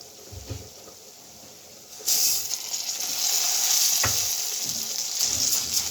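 Rice goes into a pan of frying golden vermicelli for Egyptian koshari, and a broad sizzling hiss swells up suddenly partway through, with scraping stirring knocks against the pan.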